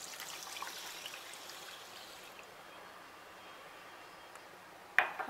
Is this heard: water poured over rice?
yes